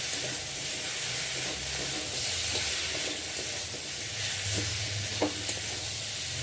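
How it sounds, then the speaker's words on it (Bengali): Vegetables sauté with spices, salt and chopped tomato in a pan, making a steady, hissing sizzle with soft stirring scrapes and an occasional faint clink, heard close with no voices. "মশলার সাথে সবজিটা ভালোভাবে কষিয়ে নেব"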